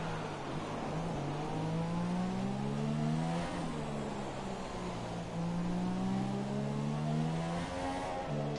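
A Formula 1 race car engine in the F1 2017 video game, Brazilian Grand Prix, howls steadily at high revs, its pitch rising and dipping through gear changes, loud and continuous throughout.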